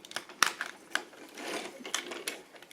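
Small plastic panels on a Transformers Generations Voyager Hotspot toy are pried open, giving a few sharp close clicks and snaps amid soft handling rustle, with no talking.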